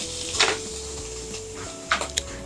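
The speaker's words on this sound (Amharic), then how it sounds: "መጥበሻችን አስቀምጠን" A frying pan is set down on a heated stove with a couple of brief metallic clanks over a quiet kitchen background hum.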